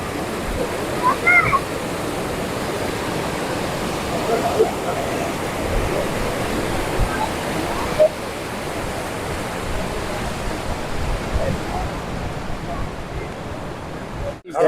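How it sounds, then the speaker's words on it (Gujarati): The Ganga river rushes past at Gangotri with a loud, steady broadband roar of fast-flowing water that fills the whole scene from close by, with faint voices mixed in beneath it. "ગંગાનો પ્રવાહ જોઈ લો તમે"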